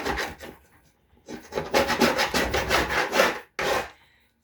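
A card scrapes paint off a discarded panel in loud, rough strokes, with a quieter stretch early on and a sustained burst of rasping before a final short stroke.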